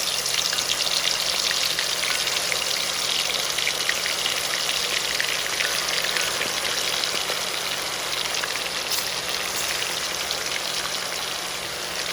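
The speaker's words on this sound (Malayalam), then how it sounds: "അന്നേരം ഇത് എണ്ണ വറുക്കാൻ നന്നായിട്ടൊന്ന് മുരിഞ്ഞ് കിട്ടും." Quail pieces fry in hot coconut oil in a heavy cheenachatti, Kerala style: a dense, even crackling sizzle, close and constant throughout, with scattered sharper pops.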